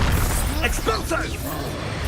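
In the Hogwarts Legacy video game, an Expulso spell explodes with a heavy boom and crashing burst, layered under a character's loud shouted voice.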